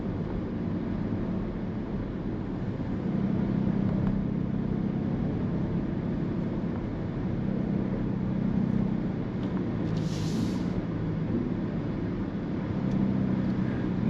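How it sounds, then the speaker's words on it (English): A 2023 BMW XM with a V8 engine running while driving, a steady low engine drone with road and cabin noise, fairly even in level and heard from inside without talking. "Now you hear the motor, I believe. Nice V8 feel."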